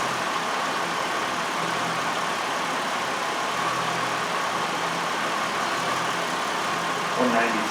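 A Buick Century engine idles steadily while warming up, a constant mid-pitched hum and whir with a faint ticking texture heard close, under a light airy hiss.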